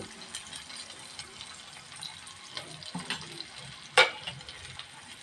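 Onions fry in hot oil for a spinach dal tempering, a low crackling sizzle with light stirring clatter and a sharp spattering burst partway through.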